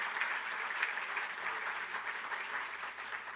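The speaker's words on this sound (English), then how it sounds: "Ces applaudissements vont directement à monsieur Pierre Harbour, qui a créé cette fondation." A conference audience at a renewable energy policy event in Montréal applauds, with sustained even clapping from a large crowd in a hall.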